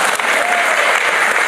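A church congregation claps at a sermon, giving a dense, loud burst of applause that runs the whole time, with a faint voice mixed in.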